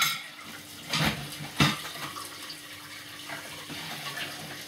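Tap water running into a kitchen sink during washing up, a steady soft splashing stream with a couple of louder clattering bursts near the start, close by with no talk.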